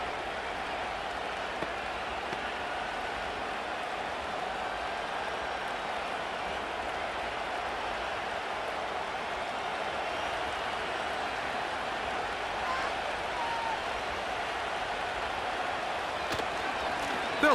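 Steady, distant stadium crowd roar in the football game Madden 25 during a Green Bay Packers vs Dallas Cowboys match, an unbroken wash of cheering noise lasting throughout with no distinct peaks.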